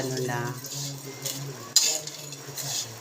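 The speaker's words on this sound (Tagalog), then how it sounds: "Saka ko ilalagay yung dilis na tuyo." Dried anchovies (dilis) being stirred in a dry pan, with a spoon scraping and clinking against the metal in scattered strokes and one sharper knock, while a voice talks faintly underneath.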